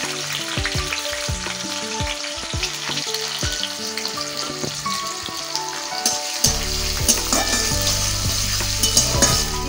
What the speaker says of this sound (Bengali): এবার তেলের মধ্যে দিয়ে দিচ্ছি চেরা কাঁচা লঙ্কা আর দিয়ে দিচ্ছি কুচি করে রাখা পেঁয়াজ।